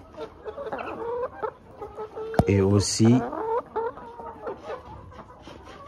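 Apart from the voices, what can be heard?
hen clucking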